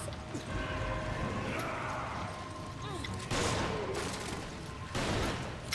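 Gunfire from the video game Resident Evil 5 sounds as repeated sharp shots and crashing impacts over a busy background, with several louder bursts standing out toward the end.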